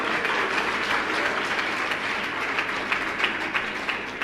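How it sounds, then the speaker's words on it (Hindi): Audience at a Jain sermon claps together in a steady, dense wash of applause that holds at an even level throughout, with no voice heard over it. "आपकी तालियां बजा रही हैं"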